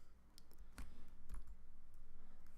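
Keys clatter in a short burst of typing on a computer keyboard, a handful of sharp clicks entering a configuration command for a Juniper wireless LAN controller, close and quiet with no voices.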